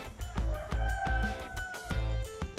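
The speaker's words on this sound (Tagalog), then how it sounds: "Sarap po pakinggan ng mga tilatilok na manok" Roosters crow at five in the morning, several drawn-out calls from birds at a middle distance, repeating over a steady low rumble of outdoor background noise.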